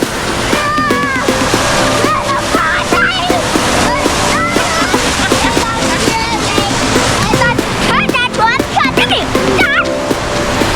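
Water splashing during swimming in an indoor pool at Great Wolf Lodge, continuous churning splashes with bright echoing voices and shouts all through.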